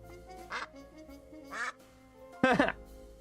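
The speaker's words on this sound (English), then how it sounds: "I can make him quack." Three bright quacks from a duck, spaced about a second apart, the last one louder and doubled, clear and close over a faint low hum.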